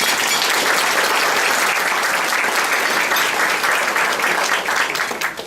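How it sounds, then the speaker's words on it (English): At an entertainment event, a crowd gives a loud, full round of applause for the sponsors, with dense continuous clapping that stays strong throughout and tapers off only in the final moments. "If you guys would give a round of applause for these sponsors today."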